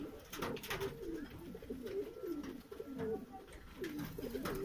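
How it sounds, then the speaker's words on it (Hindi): A male red Madrasi pigeon coos in low, repeated rolling phrases, close and fairly soft, with a faint voice now and then in the background. "ये सकदुम रेड कबूतर है, मद्रासी कबूतर, नर कबूतर है"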